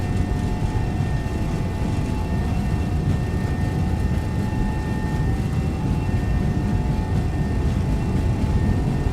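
Steady, loud roar of MD-11 jet engines at takeoff thrust during the takeoff roll in the X-Plane 12 flight simulator, a constant broadband rumble with a faint high whine.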